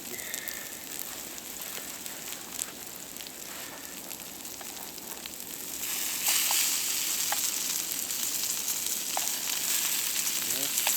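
Steak and potatoes fry in a restored hunter's fry pan outdoors in the snow, giving a steady hissing sizzle with sparse pops that grows louder partway through.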